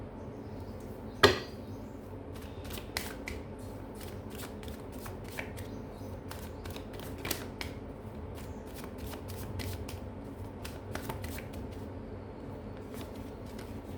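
Tarot cards are shuffled by hand, producing rapid papery riffles and snaps in repeated bursts, close and clear with one sharp knock early on.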